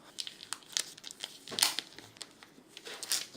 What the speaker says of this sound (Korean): 비닐을 일단 새 거기 때문에 저도 만지기 좀 무섭지만 제거를 좀 할까요?